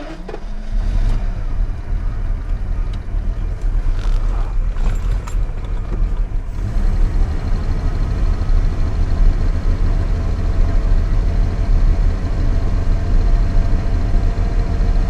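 A 1989 Jaguar XJS engine runs steadily with a constant, loud low rumble throughout, some clatter over the first few seconds and no speech.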